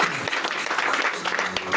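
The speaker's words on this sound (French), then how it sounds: "acclame très fort pour nous." A church congregation cheers and applauds loudly in praise, a dense continuous wash of clapping and voices for about two seconds.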